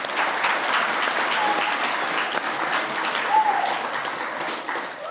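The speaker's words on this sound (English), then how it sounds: "Let's give her a round of applause." Steady applause from a school concert and awards night audience, a dense patter of clapping at moderate volume that holds for several seconds and tapers slightly at the end.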